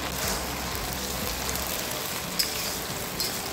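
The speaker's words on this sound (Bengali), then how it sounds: "পেঁয়াজগুলো ভালো করে ভেজে নেব" Chopped onions fry in a pan of oil, a close, steady broadband sizzle like light rain, with a couple of sharp pops near the end.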